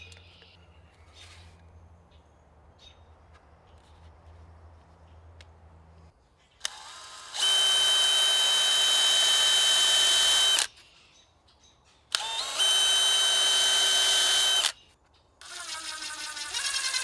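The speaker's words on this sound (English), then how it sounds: "I'm going to glue and screw these in place." Power drill drives screws into a wooden patio table in two loud sustained whirring bursts, then a shorter third one, following a stretch of quiet low background noise.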